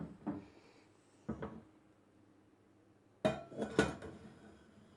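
Metal teapot set down onto a kettle on a stove while making Turkish tea, giving a few sharp clinks and clatters in separate bursts, close and fairly loud with quiet gaps between.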